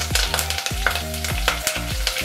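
Green chilies and curry leaves hit hot coconut oil with loud, crackling sizzles, punctuated by repeated scraping stirs of a spoon against the pan at a steady rhythm.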